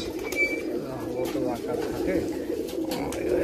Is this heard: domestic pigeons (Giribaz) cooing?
yes